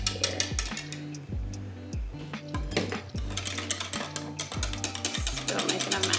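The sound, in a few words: whisking apple cider loaf cake batter in a bowl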